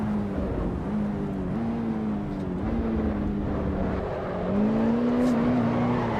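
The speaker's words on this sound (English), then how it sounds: "I know the GR86 isn't the best sounding car ever" Toyota GR86 engine in the racing game Assetto Corsa EVO, a steady mid-pitched drone held at near-constant revs, dipping briefly and climbing back, continuous and close with no talk.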